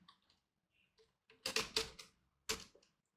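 A keyboard clacks as code is typed, close and sharp keystrokes arriving in small irregular clusters with brief pauses between them.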